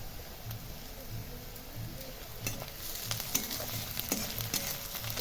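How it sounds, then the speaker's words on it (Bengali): Chopped ginger frying with onion and garlic in a pan for homemade egg chop, a steady soft sizzle with stirring scrapes throughout, no talking. "এটাকে ওর সাথে মিশিয়ে সুন্দর করে ভেজে নেব।"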